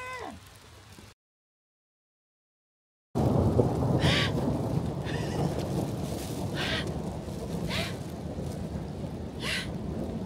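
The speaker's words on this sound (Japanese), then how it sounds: "雪の時って雷鳴るんですか？" Thunder rumbles at night in Tokyo during heavy snow, a deep rolling roar that swells suddenly and lingers, loud and fairly close, over a steady wash of precipitation with faint crackles.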